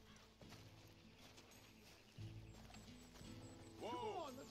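Hoof clip-clop and a brief whinny from a horse in the Red Dead Redemption 2 video game, moderately loud, with a tonal neigh near the end, under steady game music and ambience.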